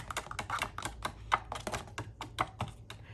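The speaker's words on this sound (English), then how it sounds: "you can use your bone folder just to kind of tap it in" A bone folder taps a paper ornament down into a small box, giving a quick series of light, close taps and clicks in an irregular rhythm with no talking.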